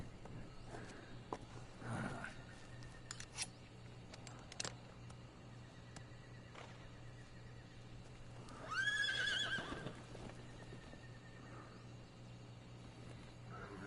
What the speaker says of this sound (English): That's the boss's horse, isn't it?